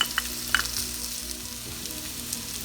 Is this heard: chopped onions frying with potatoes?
yes